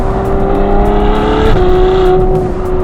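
A Novitec-tuned Ferrari 812 N-Largo V12 screams loudly at high revs, its tone dipping sharply at one quick gear change midway before pulling hard again.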